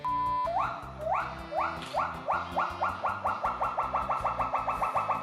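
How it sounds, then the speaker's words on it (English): Loud, close pileated gibbon hoots rise in pitch, one after another, quickening into a fast rhythmic series of whooping calls. "the pileated gibbon, because in my opinion, they have the coolest call"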